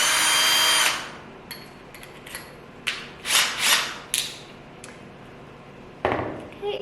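A power drill bores into a wooden canvas stretcher bar behind a painting, starting with a long buzzing burst followed by several short trigger-pulled whirs and a final burst, close and loud.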